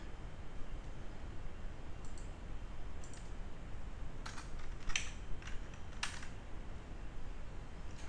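Computer keyboard typing: a handful of scattered, light key clicks in small clusters, close by, over a steady low background hum.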